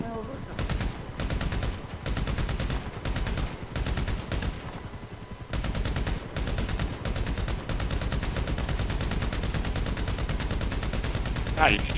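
Sustained automatic gunfire in Grand Theft Auto Online at a military base, with rapid bursts rattling almost continuously over twelve seconds and only brief gaps.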